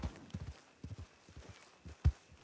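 Horse hooves clip-clop in a slow, uneven walking rhythm on the Red Dead Redemption RedM roleplay server, soft and fairly close, with one louder thud near the end.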